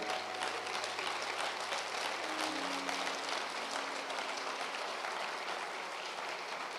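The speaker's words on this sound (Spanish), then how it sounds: "Si va a aplaudir, aplauda bien." A church congregation claps during a sermon, a steady, fairly distant wash of applause that carries on without pause, with a faint low tone running beneath it.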